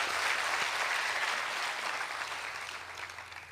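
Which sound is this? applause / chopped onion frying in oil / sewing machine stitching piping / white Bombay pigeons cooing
applause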